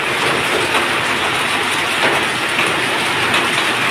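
A downpour of heavy rain roars steadily and loudly for several seconds, a thick unbroken wash of spatter close by with no one talking.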